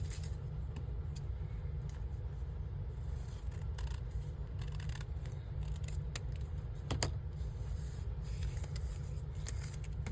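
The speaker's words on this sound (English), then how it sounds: "I have a scrappy pad, and I'm going to end up having to cut it down." Scissors cutting down a scrappy paper pad, giving faint, intermittent snips and paper rustles over a steady low hum, close and quiet, with no one talking.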